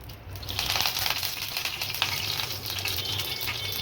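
Mustard seeds and curry leaves sizzle in a small amount of hot oil, a steady, close, crackling fry that keeps going throughout with no voices.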